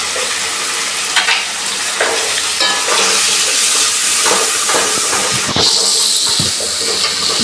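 Spices and potatoes frying in a pan for a Bengali cabbage dish, a loud continuous sizzle with stirring scrapes and clatter of the spoon throughout, no voices.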